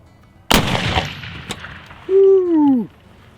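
A Sharps 1859 carbine loaded with loose black powder fires one loud, close shot with a long rumbling decay. A brief falling vocal whoop follows.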